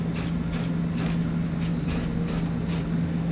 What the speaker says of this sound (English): I'm going to take a little bit of spray paint and I'm going to spray where I cut